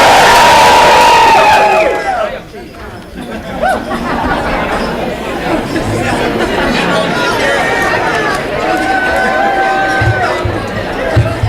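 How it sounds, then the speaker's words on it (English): A crowd at a dental school graduation luncheon cheers and applauds the graduating class, beginning with loud shouts that settle into steady clapping and babbling chatter for several seconds. "please join me in applauding our graduates, the class of 2017."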